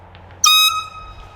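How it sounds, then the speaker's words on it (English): Air horn on a disc golf course gives a single loud, piercing blast of about a quarter second, then a fading tail over quiet outdoor background. "What's that, air horn?"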